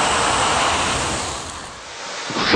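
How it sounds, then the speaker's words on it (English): Grease fire flaring violently after a water-based fire extinguisher is used on it, a loud, dense rushing whoosh of roaring flame that stays steady and ends in a brief sharp burst. "Even using a fire extinguisher that is water-based can have disastrous results. Just look, the flames shoot to the ceiling."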